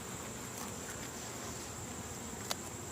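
Honey bees hum around an open backyard hive during a late-summer inspection, a steady faint drone of wings with no talk, and one brief sharper tick partway through.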